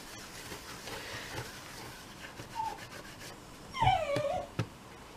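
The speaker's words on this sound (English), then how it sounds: "That's Daisy whimpering, I'm sure you can hear her" A dog whimpers in short high-pitched whines, most noticeable near the end, over a soft rubbing background noise.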